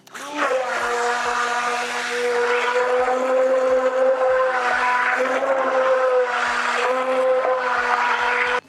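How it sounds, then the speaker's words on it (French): A blender whirs loudly and steadily as it mixes water with sodium alginate, its motor whining in a sustained tone with a few brief dips and surges. "Et on va mélanger tout ça au mixeur."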